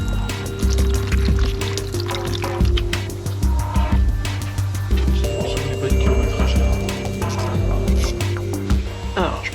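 Water mixed with diesel runs and splashes out of a camper van's fuel system during a purge under the vehicle, a steady pouring, trickling sound with people talking over it.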